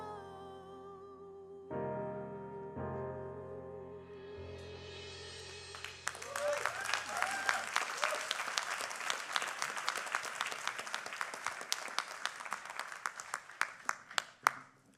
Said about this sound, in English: yes, it's okay to clap in a Lutheran church